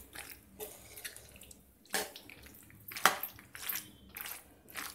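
Boiled pasta being stirred into a creamy, cheesy white sauce, with soft wet squelches and a couple of sharper scraping clacks from the spoon against the pan, fairly quiet and close.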